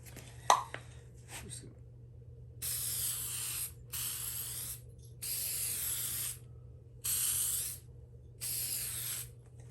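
Aerosol can of clear coat sprayed onto a restored 2010 Honda Civic Hybrid headlight, five steady hissing bursts of roughly a second each separated by short pauses, close and fairly quiet over a low background hum.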